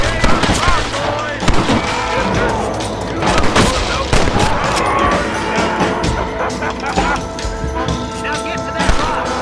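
Rapid rifle and pistol gunfire from a Western shootout in the video game Red Dead Redemption, with dense, overlapping shots and booms throughout, under game character dialogue.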